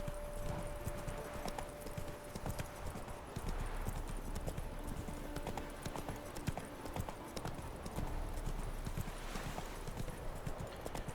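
Steady hoofbeats from a horse cantering in The Witcher 3 video game run continuously at low volume, a rhythmic clip-clop over a dense background bed of game ambience.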